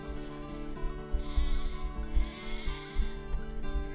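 Sheep in the video game Tiny Sheep bleat in a dense, overlapping chorus of many bleats, loud and continuous over a layer of game music, with no voice over them.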